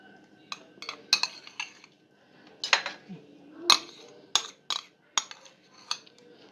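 A utensil clinks and scrapes against a bowl in irregular bursts while stirring mayonnaise into coleslaw, close by, with short quiet gaps between strokes.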